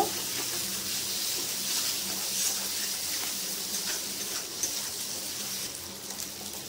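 Dried fenugreek leaves (kasuri methi) frying in a pan of sweetened masala as they are stirred, giving a soft, steady sizzling hiss throughout with no distinct scrapes or talking.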